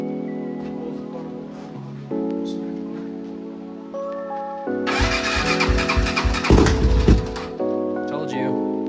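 A Honda TRX400EX ATV, freshly fitted with a new head gasket and corrected timing, fires up and runs with a loud, rough pulsing roar for a few seconds over a steady tonal background, then falls away.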